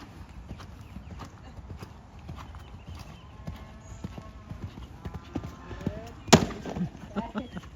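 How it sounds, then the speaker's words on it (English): A horse canters in a schooling session, its rhythmic three-beat hoofbeats thudding steadily and fairly close, with a sharp clattering knock partway through and a distant voice speaking faintly in the background. "Really good canter there."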